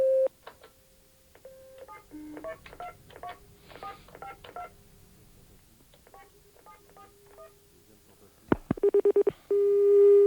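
A telephone being redialed for a second call attempt: a dial tone, then a rapid series of touch-tone keypad beeps, more tones and a burst of line signals before a steady tone resumes, all clear and close.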